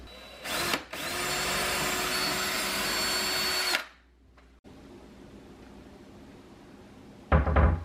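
A power drill whirs steadily for about three seconds at close range, drilling pilot holes in a craft cabinet, then stops, followed by quiet room noise and a brief clunk at the end.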